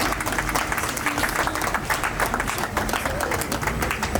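Wedding guests at an official civil marriage ceremony in Brazzaville, Congo, break into loud, steady applause that fills the room, with scattered voices mixed into the clapping.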